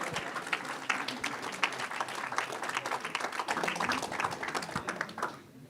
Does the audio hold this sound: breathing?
no